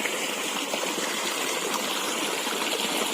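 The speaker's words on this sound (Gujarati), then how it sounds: "અને જો હવે આ પાણી ભરું છું પીવા માટે" Water pours steadily into a concrete drinking trough for cows on a farm, a continuous close rushing and splashing that holds an even level throughout with no voices.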